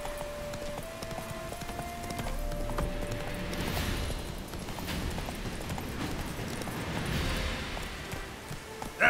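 Roach the horse galloping in The Witcher 3, a steady rhythm of clip-clop hoofbeats carrying through the whole stretch over a continuous game background, with no talking.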